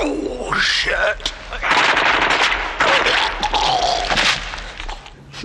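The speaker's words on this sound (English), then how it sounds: "the gun-toting lunatic actually started shooting at them" Bursts of machine gun fire crackle repeatedly in the puppet film Meet the Feebles, a gun-toting lunatic shooting real ammo, mixed with shouting and screaming voices over loud, dense rapid volleys.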